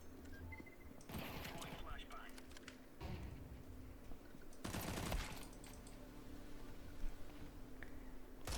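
Gunfire from the first-person shooter Counter-Strike 2: several bursts of shots and impacts crackle through steady game ambience, with a voice talking over the action.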